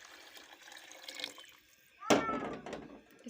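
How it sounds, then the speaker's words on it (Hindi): One litre of water poured into a pot of desi chicken curry, a sudden close splash and gush of liquid after a quieter stretch of faint kitchen sounds. "मैं इसके अंदर 1 लीटर पानी ऐड कर रही हूँ"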